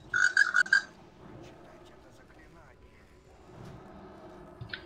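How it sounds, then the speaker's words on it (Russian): Toads croak in a swamp within a video game, a quick run of loud, rhythmic croaks at the start, then quieter ambient game sound with scattered faint clicks and murmuring voices. "А ты еще жабы на фоне"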